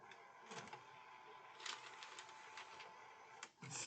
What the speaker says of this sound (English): you will hear my printer behind me doing its thing